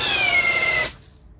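A Kyoal KY6065 first-generation 65 Nm two-mode power tool spins at speed 2 with a high whining motor whose pitch slowly drops, then cuts off abruptly after about a second.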